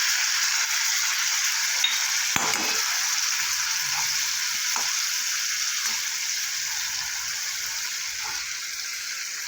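Crushed ginger and green chili hit hot oil in a pan with rice, giving a steady, bright sizzle throughout. A couple of soft clicks from the utensil or pan break through the continuous hiss.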